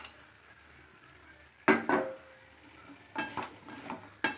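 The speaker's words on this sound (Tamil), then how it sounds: "நல்லா கிளறிக்கலாம்." A spoon or ladle scrapes and clatters in a pan as fried elephant yam is stirred into gravy, in a few short bursts separated by quiet gaps, with a faint sizzle underneath.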